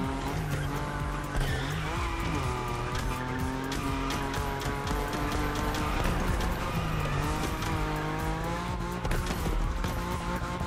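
A car engine revs hard while tires squeal almost nonstop through a drift run in The Crew Motorfest, loud, close and sustained, with the engine's pitch rising and falling across the whole stretch.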